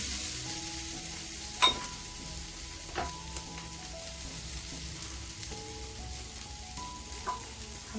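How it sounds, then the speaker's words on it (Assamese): Tora fish frying in oil with salt and turmeric gives a steady, close sizzle and crackle that runs throughout, with a few sharper pops standing out. No one speaks. "অকণমান আকৌ ভাজিলোঁ।"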